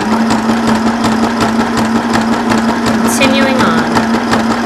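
A Janome Sew Mini sewing machine stitching fabric, a continuous close motor whir with rapid needle ticking, loud throughout with a faint voice underneath.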